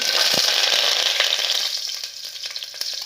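Cumin, cinnamon and curry leaves fry in hot oil for dal khichdi, making a loud, continuous hissing sizzle close by that eases slightly toward the end, with no voices.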